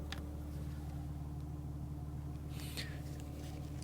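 A steady low engine drone inside a BMW G82 M4 with the exhaust valve open, idling evenly with a constant rumble and no revving.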